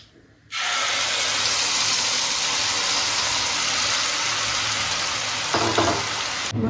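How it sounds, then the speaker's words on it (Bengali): Spices hit hot oil tempered with cumin in a wok and burst into a loud, sudden sizzle that holds steady and close. A brief scrape of stirring comes near the end. "কড়াইতে আবার তেল দিয়ে দিলাম তেলটা আন্দাজ মতন জিরে ফোড়নে দিলাম মশলাটা ঢেলে দিলাম"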